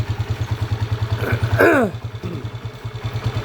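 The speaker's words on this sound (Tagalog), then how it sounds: "pakinggan natin tong makina niya" A Honda TMX155 motorcycle engine with an overly noisy motor idles with a steady, rapid thumping pulse, briefly masked by a short squeaky warble midway.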